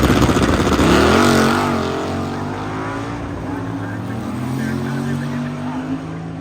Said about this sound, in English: Chuck Sorensen in the 1964 Wheel Standing Valiant